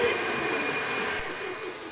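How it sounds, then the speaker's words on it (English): Egg whites being whisked for a pavlova in an outdoor kitchen at Avoca Beach, a steady, loud mechanical whirring of an electric mixer running continuously without pause. "just whisking the egg whites"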